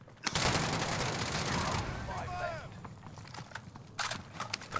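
Gunfire in a multiplayer shooter game during a house-clearing fight, with scattered bursts of shots and a sustained burst at the start over a busy game mix of footsteps and ambience.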